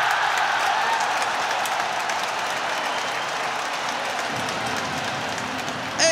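Stadium crowd at a Dutch football match applauding and roaring after a headed equaliser, a dense, steady wash of noise that holds loud and even throughout, with a brief sharper burst at the very end.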